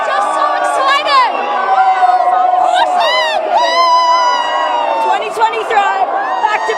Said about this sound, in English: All the cheering, all the excitement, a wash in maroon, blue and gold.